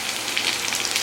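Garlic and green chili frying in hot oil for a Bengali kolmi saag dish, a steady close crackling sizzle with no talk.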